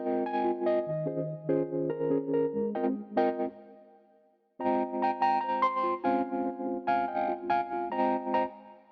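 An Electric 200A electric piano plays a bouncy swing pattern of chords with a chorus-like shimmer, pausing briefly midway before resuming.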